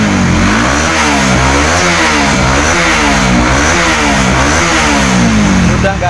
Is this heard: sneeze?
no